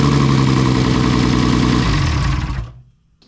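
A freshly rebuilt RB engine runs at a loud, close idle with a throbbing, uneven pulse, then dies away and goes quiet near the end.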